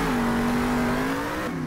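A Monster Jam monster truck's big engine roars loud and steady at an arena freestyle show, holding a sustained droning rev that climbs slightly in pitch before easing off near the end.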